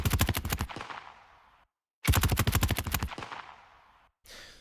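Sub and body layers of a Modern Warfare gunshot sound effect, layered with a kick drum, fire as two loud rapid bursts of punchy automatic shots, each decaying into a short tail, with a brief third hit cut off at the end.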